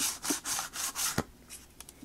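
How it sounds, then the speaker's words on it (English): Sanding block rubbed along the edges of paper in a papercraft project, giving several quick, close rasping strokes in a rough rhythm, then a few lighter scuffs. "Next, we're going to take our sanding block and just sand around the edges a bit."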